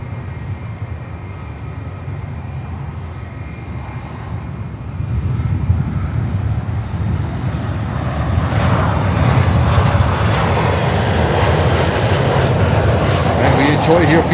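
Viva Aerobus airliner on runway 9 at Miami airport, its engine roar building from a low rumble to a loud, broad rushing sound over several seconds.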